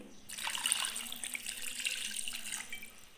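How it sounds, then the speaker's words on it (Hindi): Water gushes into a pot holding chicken drumsticks with garlic, ginger and salt, a fairly soft, close splashing pour that starts abruptly and runs steadily to the end. "और अब डाल दूंगी पानी"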